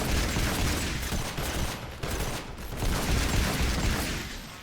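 Sustained gunfire from Fortnite Save the World fills the clip, a dense loud wash of rapid shots with steady energy and only brief dips, no talking.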